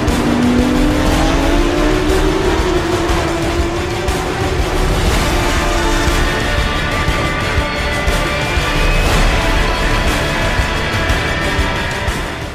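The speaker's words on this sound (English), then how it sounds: "Al Maktoum uses his chance to pass Al Faisal in the famous bowl corner." Porsche GT3 Cup race cars roar loudly through the bowl corner of a Middle East circuit, one engine note sweeping and shifting as the cars pass close by in a continuous, dense rush of engine noise.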